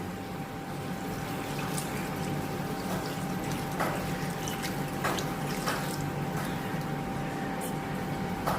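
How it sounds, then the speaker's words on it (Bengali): Water is poured into a pot of simmering meat curry on a gas stove, a soft, continuous splashing pour with scattered drips and clinks, faint and close by. "এবার পরিমাণ মতো জল দিয়ে দিচ্ছি।"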